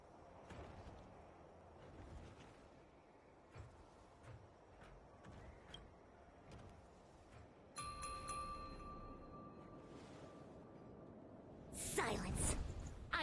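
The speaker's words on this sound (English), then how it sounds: "We could try ringing the harmonic chime." A harmonic chime rings in the video game Honkai: Star Rail, a bright, resonant tone with shimmering overtones that lingers for a few seconds. Quiet ambient game sounds and a voice surround it, and a whooshing swell follows.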